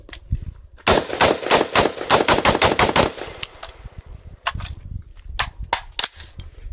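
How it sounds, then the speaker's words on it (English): Rapid semi-automatic gunshots from a PSA AR-15 rifle firing armor-piercing rounds into rocks outdoors: a fast string of loud, sharp cracks, then a pause and a few more scattered shots. "This is armor penetrating round, so I'm just gonna dump them into the rocks."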